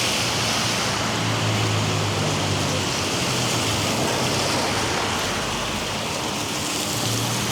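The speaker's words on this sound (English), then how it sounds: "it was snowing earlier on, but it's turned into rain." Steady broadband hiss of rain in Toronto, loud and continuous, with a low rumble of traffic or engines underneath; no talking.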